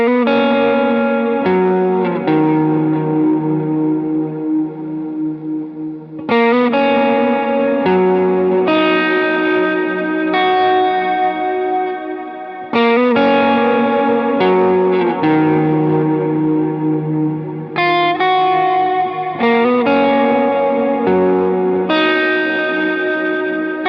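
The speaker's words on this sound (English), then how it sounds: "And with all the effects, it'll sound like this." Electric guitar lead played with heavy effects, sustained distorted notes ringing with echo and chorus shimmer, in phrases separated by short breaks.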